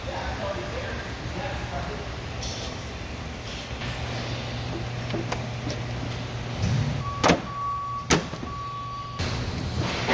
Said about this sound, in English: So we'll go ahead and close the doors. Put the top back on.